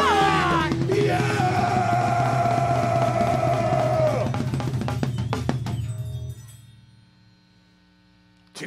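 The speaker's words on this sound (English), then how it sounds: "Everyone, scream!" A loud crowd screams and yells at a live show, with a droning hum underneath. The roar holds for about six seconds, then fades to near quiet before a brief burst returns.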